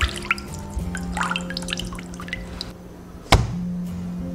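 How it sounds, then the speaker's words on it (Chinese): Water from washed sesame seeds wrung out through gauze, dripping in short irregular patters with a brief louder splash near the end, over a steady background hum. "把多余的那些水分给它挤出来。"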